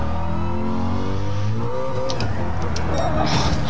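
A Ford Shelby GT350R revs hard on a track lap. The engine note is loud and close, climbing through strong harmonics, then drops as the car is short shifted, with a brief squeal of tyres at the end.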